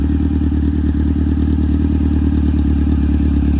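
A Honda CBR F4i 600cc sport motorcycle engine running close by, a loud, steady throaty drone with a rapid pulsing rhythm throughout.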